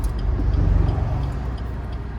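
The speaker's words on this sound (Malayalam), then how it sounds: "ഇനി നമുക്ക് ഓൾട്ടോയുടെ ആ ഒരു പെർഫോമൻസ് ഡ്രൈവ് ഒന്ന് ചെക്ക് ചെയ്ത് നോക്കാം" A 2024 Maruti Alto K10 CNG manual car on a test drive, with a loud, steady low engine hum and road rumble heard from inside the cabin and no talk.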